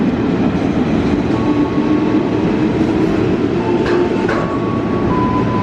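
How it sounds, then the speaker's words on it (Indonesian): A train passes straight through on track 2 of an Indonesian railway station, arriving from the east with a loud, continuous close rumble of wheels and wagons, and a couple of faint squeals or clanks midway. "Hati-hati jalur 2 dari arah timur kereta api melintas langsung."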